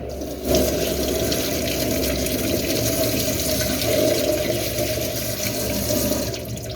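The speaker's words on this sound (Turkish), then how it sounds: "Yeşil domateslerimizi birbirinden yıkayalım." Green cherry tomatoes being washed for pickling, under a steady rush of running tap water with sloshing and splashing, close and continuous throughout, no voices.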